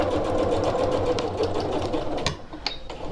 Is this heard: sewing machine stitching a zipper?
yes